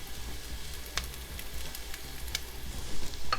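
Crumbled sausage sizzling in a pan, a steady close hiss with scattered small pops and crackles, no voice over it.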